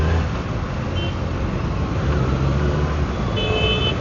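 Dense road traffic roars around a Kawasaki ZX6R motorcycle on the move, with a steady wash of engine and wind noise, brief horn toots near the start and end, and no talk.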